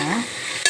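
A spoon scrapes through curry in a sizzling pan, one short close stir over frying crackle.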